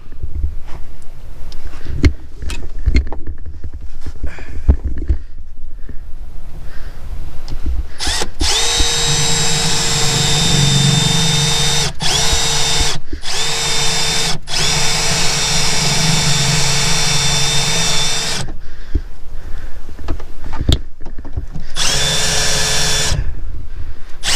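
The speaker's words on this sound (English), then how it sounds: "that's double layer of steel there. Just give me a second to drill this one out" A loud power drill grinds through a double layer of steel on a Nissan Pathfinder in long sustained runs, briefly stopping and restarting several times, its high-pitched whine steady between pauses.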